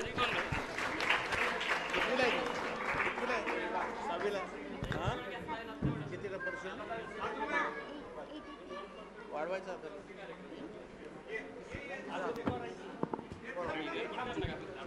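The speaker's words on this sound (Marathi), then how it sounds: "होय, जोरात टाळ्या वाजवा." Audience applause at a student award ceremony honouring top-performing pupils, steady clapping running through the whole stretch with crowd chatter and an announcer's voice over it.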